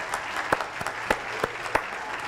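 A French TV studio audience applauds on a talk show, dense steady clapping with a few sharper claps standing out, fairly close and continuous.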